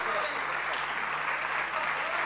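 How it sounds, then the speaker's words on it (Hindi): Steady applause from an audience at an award ceremony during a trophy presentation, filling the room continuously without pauses. "तालियों की आवाज आनी चाहिए जोर से"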